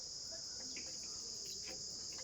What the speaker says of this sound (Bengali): জঙ্গলের যে একটা ডাক, একটা পোকার ডাক, আর চতুর্দিকে একটা কেমন ভৌতিক পরিবেশ লাগছিল।